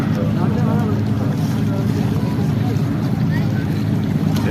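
A ship sails on the water off the Üsküdar shore, its low rumbling wash blended with steady wind noise buffeting the microphone, loud and continuous.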